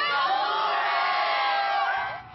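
A sold-out crowd at a college basketball game roars and cheers loudly, a dense sustained wall of voices and whoops that fades slightly at the end.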